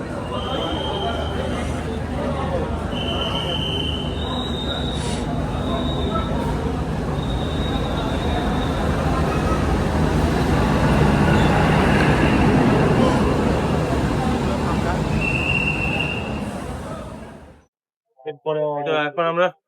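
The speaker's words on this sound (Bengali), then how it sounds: "পেছন থেকে দেখতে পাচ্ছেন ট্রেন আসছে" A small four-car train pulls into Banihal station with a steady, loud rumble that swells and then holds, ending abruptly. Brief tonal squeals sound over it, and people talk in the background.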